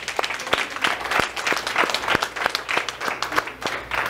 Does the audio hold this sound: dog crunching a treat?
no